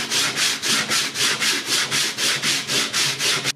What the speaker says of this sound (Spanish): Así que vamos a empezar a lijar.